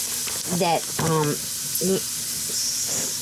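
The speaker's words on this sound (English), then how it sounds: "I'm going to sear them in here with the onions" Food searing with onions in a Ninja Foodi pot, a steady broad sizzle and hiss running throughout, with someone talking over it in a few short bursts.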